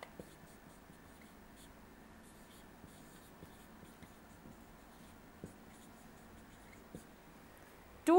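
Marker or chalk strokes on a board during a chemistry lesson, faint scratchy writing with a few light taps, quiet and continuous, ending in a short louder knock.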